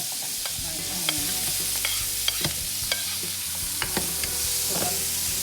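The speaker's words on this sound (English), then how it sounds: "I'm going to saute my onion." Onion sautéing in a pan for a ground beef sandwich, with a soft steady sizzle broken by sharp clinks and scrapes of a utensil stirring at irregular intervals close by.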